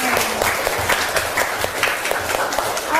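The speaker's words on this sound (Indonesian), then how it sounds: "tepuk tangan untuk kita semuanya" A class of students claps together after an Islamic history lesson, a lively, fairly close burst of many hands with sharp individual claps standing out, while voices murmur faintly underneath.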